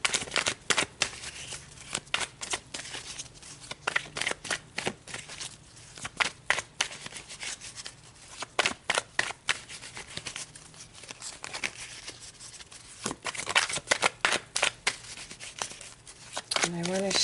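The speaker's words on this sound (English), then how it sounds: "Shuffle really good." Rapid, crisp riffling bursts of tarot cards being shuffled, repeated in uneven clusters, close and fairly loud.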